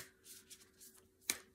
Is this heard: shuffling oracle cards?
yes